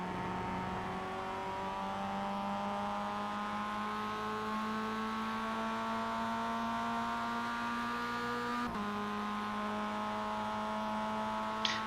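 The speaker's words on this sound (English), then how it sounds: "Putting the car in third, getting it around." A Mazda racing car engine in a video game drones steadily in third gear, its pitch climbing slowly, with a brief dip around a shift before it pulls on, alone and without talk.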